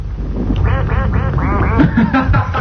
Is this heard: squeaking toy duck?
yes